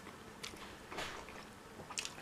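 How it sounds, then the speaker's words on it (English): Close-up bites into a chili-seasoned burger with a crunchy crust, three soft squishy chomps with wet, juicy texture, quiet and near with no talk. "Gotta give you a close-up bite"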